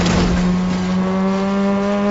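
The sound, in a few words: vehicle driving in Fortnite video game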